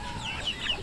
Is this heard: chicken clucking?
yes